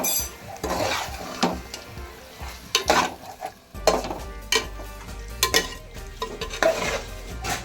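A prawn kabsa biryani mixture is stirred in a pot: a spoon scrapes and clanks against the metal in irregular bursts over a faint sizzle, with a few sharp clinks standing out.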